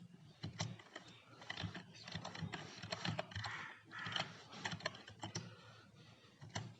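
A command being typed on a computer keyboard, quiet, close key clicks in an irregular rhythm with short pauses between bursts.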